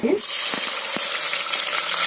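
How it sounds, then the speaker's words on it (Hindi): Two medium onions sizzle in two tablespoons of hot oil in a pressure cooker, a loud, steady frying hiss close up with a few soft stirring knocks. "प्याज को हम हल्का गोल्डन ब्राउन होने तक फ्राई कर लेते हैं।"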